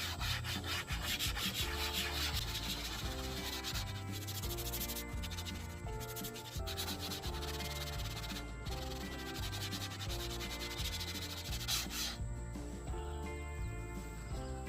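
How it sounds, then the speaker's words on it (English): Steel wool scrubbing grease off the corner of a table, a steady rough rubbing that runs continuously and fairly loud, with musical tones sustained underneath throughout. "Had to break out with the Gookie steel wool to get that grease off the corner of the table there"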